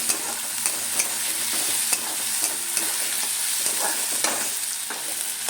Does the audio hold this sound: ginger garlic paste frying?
yes